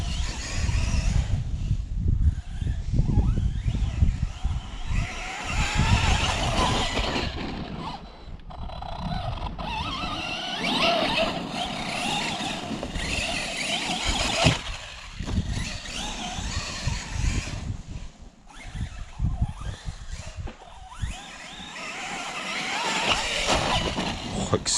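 Arrma Senton RC short-course truck running on Gorgon tyres, its electric motor whining and rising and falling as it accelerates, turns and slows, with gritty ground noise, heard up close and steady for the whole stretch.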